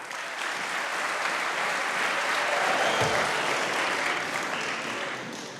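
A chapel audience welcomes a speaker at Wabash College with sustained, steady applause that holds at full strength throughout and tapers slightly at the end.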